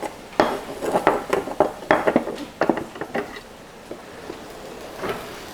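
A knife slices through cooked steak for a steak salad, making a close run of irregular knocks and scrapes against the board, with a few softer taps trailing off. No one speaks.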